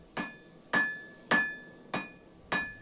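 A hammer gives five light, evenly spaced taps on wire rope heated to forge-welding temperature for a cable Damascus knife. Each strike rings briefly with a metallic ping, close and clear, and there is no talk.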